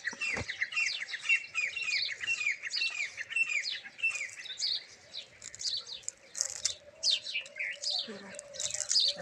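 Sparrows chirping while feeding in the morning, a busy stream of close, overlapping tweets and chatters, with a faint low hum and a brief voice in the background.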